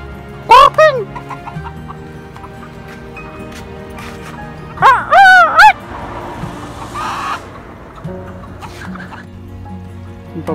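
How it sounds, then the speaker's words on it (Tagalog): Chickens on a farm give two loud, close squawking calls several seconds apart, with softer clucks and low background noise between them. "Ito yung mga manok dito."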